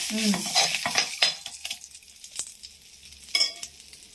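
Tempering for gongura chutney sizzles in hot oil, a close, loud hiss with scraping and stirring clatter at the start that fades and flares again toward the end. No one speaks.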